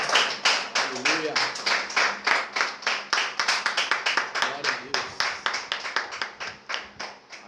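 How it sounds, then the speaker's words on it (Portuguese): A church congregation claps loudly in a fast, steady rhythm throughout, many hands together, with faint voices briefly underneath. "E assim que você se colocar de pé, aplauda bem forte ao Senhor Jesus."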